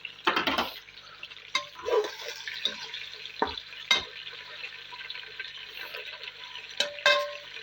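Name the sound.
chicken frying with onions in pot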